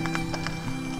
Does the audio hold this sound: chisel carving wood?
no